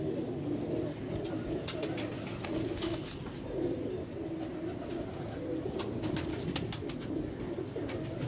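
Pigeons, including a small two-storey bird, coo in steady low rolling calls that overlap throughout, nearby and moderately loud, with sharp clicks and rustles now and then.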